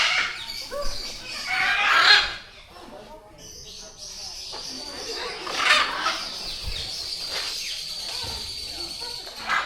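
Chickens cluck and a rooster crows among other birds in an aviary at Gazipur Safari Park, Bangladesh, with a voice talking over the busy, fairly close flock.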